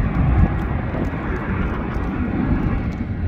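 A passenger airplane at Canberra International Airport, soon to be retired, gives a steady, fairly loud jet engine roar that holds evenly throughout.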